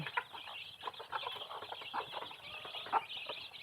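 Desi chickens and young chicks on a small poultry farm cluck and chirp in a steady, busy mix at close to moderate range, with no talk.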